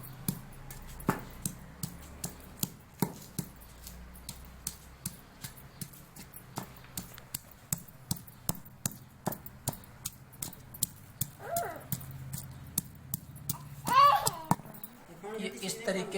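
Garlic cloves being pounded to crush them for homemade garlic powder: a steady run of sharp, evenly spaced thuds, roughly two per second, close and fairly quiet, with faint voices briefly in the background.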